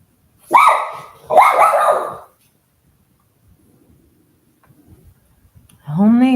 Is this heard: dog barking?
yes